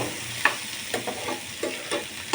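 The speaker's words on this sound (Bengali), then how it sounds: "এটা জাস্ট একটু ভেজে নিচ্ছে আর কি" Dried fish (shutki) frying in a pan, with a steady soft sizzle broken by a handful of sharp scrapes and clacks as it is stirred, close and fairly quiet, no voices.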